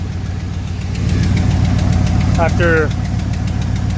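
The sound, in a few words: 1975 Ford truck engine running after jump start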